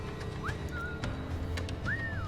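Faint, short whistled notes, a rising chirp and a longer sliding tone, over a steady low background hum, in Assassin's Creed IV: Black Flag.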